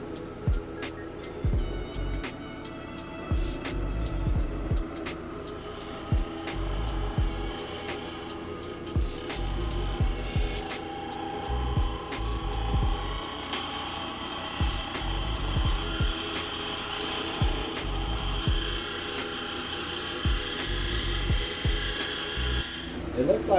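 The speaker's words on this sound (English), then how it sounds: "I actually have to be careful when I'm doing this and grinding this down" Grinding down an amethyst and obsidian Nether portal build that is wider than the room, a power tool whirring steadily and close with repeated louder bursts and clicks of contact throughout.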